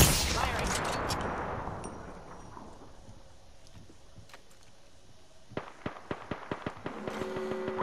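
Apex Legends gunfire opens with a loud burst that decays into a long tail, then a later string of sharp, evenly spaced shots rings out in quick succession.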